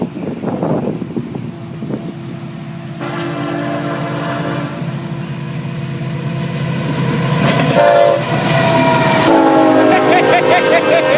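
A Florida East Coast Railway passenger train passes close by, its engine rumbling and cars rolling past while the horn sounds in long, loud blasts that grow louder toward the end.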